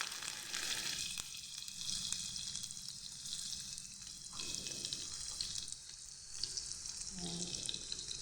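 Garlic, ginger and onion fry in a pan for oatmeal egg caldo, a steady close sizzle with brief stirring scrapes, moderately quiet.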